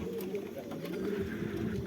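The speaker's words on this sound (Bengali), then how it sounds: "তো এই হলো আমার কবুতর" Pigeons coo in a low, continuous murmur inside a farm pigeon house, several birds overlapping in soft rolling calls heard close by without speech.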